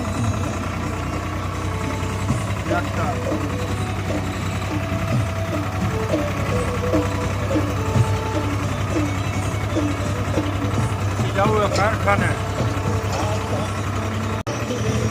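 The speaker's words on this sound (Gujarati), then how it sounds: "આ ટ્રેક્ટર લઈને જઈ રહ્યા હવે" A tractor engine runs steadily while driving between farm plots, a continuous low rumble with a faint knocking rhythm throughout, under a voice talking.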